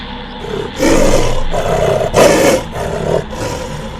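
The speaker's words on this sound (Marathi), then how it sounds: "तितक्यात जंगलात वाघाची डरकाळी घुमली" A tiger roars in a jungle with deep, rumbling growls that swell in several heavy bursts, up close and loud, with no voices over it.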